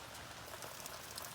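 Rain falls in a backyard on a rainy day, a faint, even, continuous patter of drops on plants and ground with no other sound.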